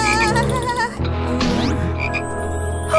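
A cartoon frog gives a loud, close croak against a busy animated soundtrack of tones and effects, with a quick swooping sound in the middle.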